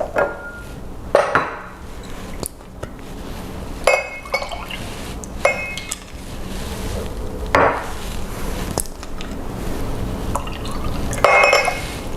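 Coconut aminos poured into a measuring cup in a home kitchen for freezer meals, with liquid splashing and dripping in bursts alongside glassy clinks of the cup and utensils, close and moderately loud with no talking.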